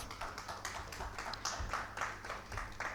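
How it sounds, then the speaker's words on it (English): Audience clapping at a privacy policy conference session, fairly quiet and soft, a loose patter of hands continuing evenly for a few seconds. "Please give a big round of applause."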